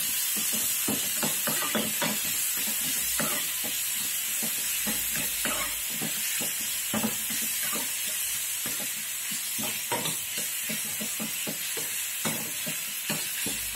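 Kerala-style chicken frying in a pan gives a steady close sizzle and hiss, broken by repeated scraping and clattering stirring strokes, with no talk.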